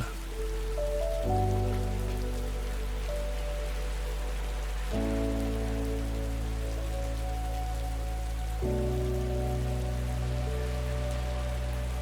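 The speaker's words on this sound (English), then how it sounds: "all living things play the music of the rain" Rain falls steadily in the humid Panama rainforest, a continuous close hiss spread across the whole stretch beneath a sustained musical drone that shifts pitch in a few steps.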